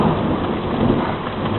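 A hailstorm with thunder pounds down in a dense, continuous roar of hard ice striking surfaces, loud and steady throughout the short stretch with a deep rumble underneath and no voices.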